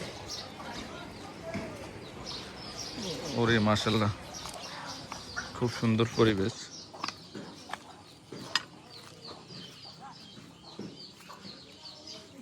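Village birds and chickens chirp and cluck around a home garden, scattered calls near and far over steady outdoor ambience, with a person speaking over part of it.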